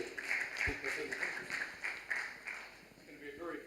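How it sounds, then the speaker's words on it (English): Applause from a university research conference audience greeting a guest speaker from Germany, a modest spread of clapping that swells and fades unevenly, with some talk and a sharp thump partway through. "Give him a round of applause"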